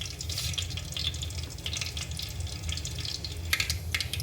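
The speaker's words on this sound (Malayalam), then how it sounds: "കടുക് പൊട്ടി വന്നിട്ടുണ്ട്." Mustard seeds splutter and pop in hot coconut oil for a Kerala-style breadfruit curry, with a close, continuous crackling sizzle and sharper bursts near the end, and no talking.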